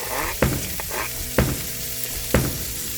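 Red onions, green peppers and garlic sautéed for pork sisig: loud steady sizzle with three sharp spatula scrapes against the pan at roughly one-second intervals, close up, no speech.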